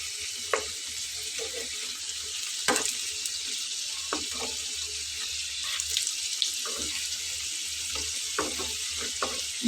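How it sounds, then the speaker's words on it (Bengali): Food frying in a pan over a steady flame while it browns for a Bengali breakfast dish, a constant soft sizzle with faint scattered pops and clinks, fairly quiet and without talking. "তো আমি একটু ব্রাউন করে ভেজে নেব।"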